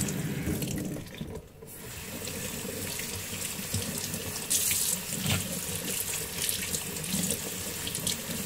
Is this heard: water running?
yes